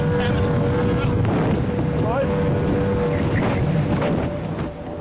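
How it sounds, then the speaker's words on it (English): RNLI D-class inflatable lifeboat from Howth running flat out at 25 knots at sea, its outboard engine droning loud and close under heavy wind buffeting and rushing water. "The Howth team pushed their D-class lifeboat to its top speed of 25 knots."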